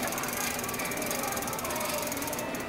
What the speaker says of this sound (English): Same thing here, and I just back pedal.